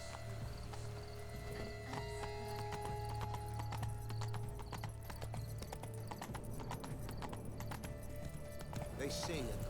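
Hooves clip-clop at a gallop in The Witcher 3, a steady rhythmic beat with a horse whinnying, set under game music and characters talking.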